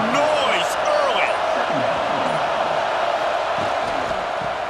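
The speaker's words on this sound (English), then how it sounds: "This crowd bringing the energy and noise early." Stadium crowd in a College Football 26 video game roars steadily and loudly throughout, a dense wash of cheering and noise with play-by-play commentary running over it.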